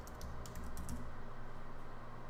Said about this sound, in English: We're going to type in the URL.